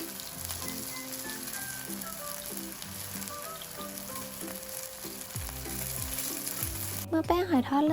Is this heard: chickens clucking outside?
no